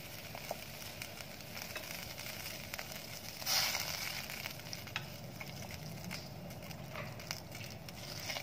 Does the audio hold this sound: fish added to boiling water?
yes